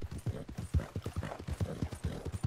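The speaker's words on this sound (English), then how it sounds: "I tried riding the horse in first person, but it shakes the camera so much it makes me seasick" Horse hooves clip-clop in a quick, rhythmic gait while riding in the video game Red Dead Online, close and clear, with no voices.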